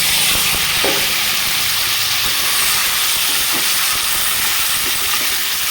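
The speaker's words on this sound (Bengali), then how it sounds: "সয়াটাকে হালকা লাল লাল করে ভেজে নিচ্ছি" Boiled soya chunks frying in hot oil in a kadai with whole cumin, giving a loud, steady, close hiss and sizzle that runs unbroken throughout with no talking.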